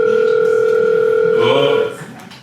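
A telephone rings on stage during a play, a loud steady electronic tone held for about two seconds before it cuts off and fades into quieter room sound.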